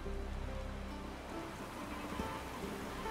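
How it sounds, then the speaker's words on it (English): Rain falls in the video game The Witcher 3, a steady, soft wash of drops on the ground that continues without a break at moderate loudness. "it's raining"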